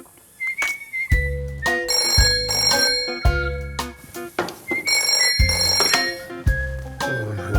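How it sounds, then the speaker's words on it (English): A telephone rings in repeated bursts, bright trilling electronic rings spaced by short gaps, loud and close, over a low background hum. "Jess rang me on the phone."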